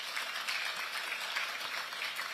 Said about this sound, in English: we must give a round of applause to Asempa for leading this charge